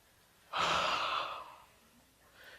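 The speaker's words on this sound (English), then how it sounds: "the first thing that we've got to do is to take a very deep breath" A single deep inhalation and sigh-like exhale from a speaker on stage, close and soft, lasting about a second before fading into quiet.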